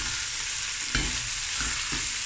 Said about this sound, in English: I'm going to add the blade beef. Let this fry